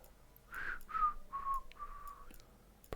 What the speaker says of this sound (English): Probably shouldn't whistle into the camera.